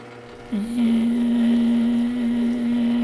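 A metal lathe parting off a small turned part for a tripod adapter gives a steady, loud, even motor drone that rises sharply about half a second in and holds unbroken, with no talking.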